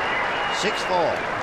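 A large tennis crowd applauds at Indian Wells in 2004 as Agassi takes the opening set of a semifinal against Federer. The brief burst of clapping sits beneath a commentator's voice.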